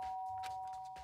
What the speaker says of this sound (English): I press the doorbell